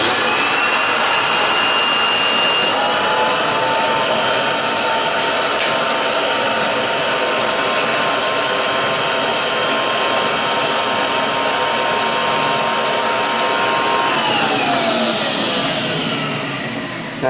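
A shop vacuum runs continuously while its suction holds plywood against a square tube, giving a loud, even whine with a steady tone that sags and drops in pitch near the end as the motor winds down.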